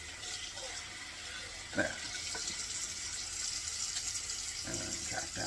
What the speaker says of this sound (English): Oh, I'll rinse this out.